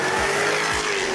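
Jaguar F-type R coupe, a 542 bhp rear-wheel-drive car, running hard on a handling course, its engine droning loud and steady with brief tire noise.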